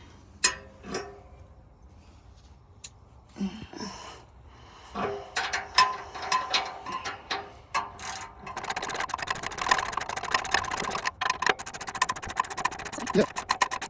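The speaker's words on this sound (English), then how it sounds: "Get your torque wrench." A torque wrench ratchets and clicks during an exhaust dump pipe install on a 2026 Toyota Tacoma TRD Off Road i-FORCE MAX, scattered taps giving way to rapid, continuous clicking, with people speaking nearby.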